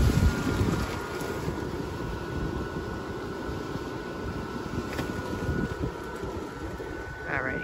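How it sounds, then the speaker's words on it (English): Gusty wind blows outdoors where a Christmas inflatable arch is being set up, a loud, steady rumbling buffet across the microphone with a continuous faint hum and a short chirp near the end. "It's a little windy, so it is getting pushed back right now"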